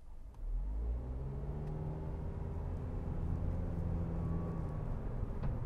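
A 2021 Suzuki Ignis SZ-T hybrid automatic pulls away and holds first gear, its engine a steady, moderately loud mid-pitched hum and whir from inside the cabin, rising slightly and sustained with no gear change or talk.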